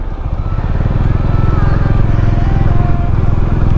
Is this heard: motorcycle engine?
yes